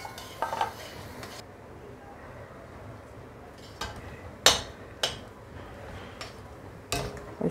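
A spoon scrapes and clinks against a pot as semolina is stirred in salted boiling water until it thickens into dough. Sharp metallic knocks land at irregular intervals over a low background hiss.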